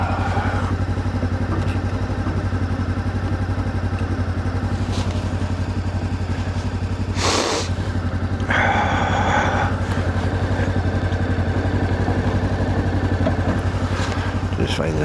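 A Voge motorcycle engine idling nearby, a steady low rumble throughout with brief clatters and a short louder burst midway, and a voice talking over it.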